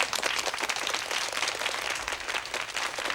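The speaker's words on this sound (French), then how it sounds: "je crois qu'on peut l'applaudir à nouveau" A television studio audience applauds for a guest on a French variety show, a steady, dense patter of many hands clapping that fills the short stretch without a break and with no talk over it.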